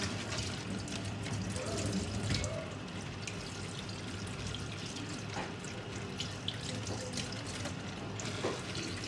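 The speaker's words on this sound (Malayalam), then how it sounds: "അതൊക്കെ വെള്ളം ഒഴിച്ചിട്ട് നന്നായിട്ട് കഴുകിയെടുക്കാം" A kitchen tap runs while cleaned crabs are rinsed under it, water splashing and gushing unevenly with drips and occasional clatters, steady and close, with no talk.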